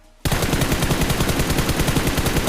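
Rapid automatic gunfire in a solo-versus-squad battle royale video game, a sustained loud burst of evenly spaced shots that starts abruptly after a brief quiet moment and continues without pause.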